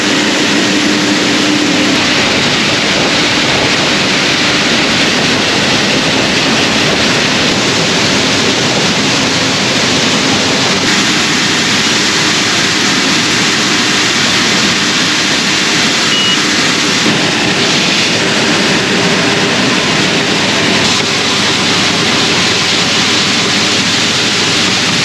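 A grain cleaning machine sorting beans and screenings roars loud and constant, a dense broadband mechanical rush with a steady low drone that never lets up.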